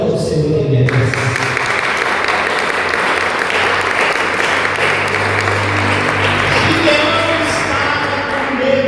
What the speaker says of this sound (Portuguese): Pode aplaudir o Senhor que ele é.